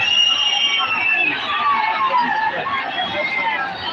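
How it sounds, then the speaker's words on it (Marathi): A packed street crowd in Nanded, gathered for Manoj Jarange Patil's convoy, keeps up a steady, loud wash of shouting and chatter, with thin whistle-like tones sliding over the dense hubbub. "कचाकच भरलेली गर्दी"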